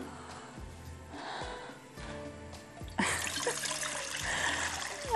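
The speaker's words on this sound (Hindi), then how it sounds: "इसके अंदर डालते हैं पानी, थोड़ा सा नमक।" Water is poured into a cooking pot to be brought to a boil for rice, a steady trickling splash that grows fuller and louder halfway through, close by, with no talking.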